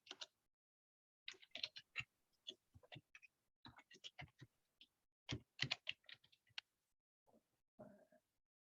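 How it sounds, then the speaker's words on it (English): Typing on a computer keyboard during an online career training session, with uneven bursts of quick, close key taps separated by short pauses and a soft thump near the end, heard alone. "Let me just type this in real quick."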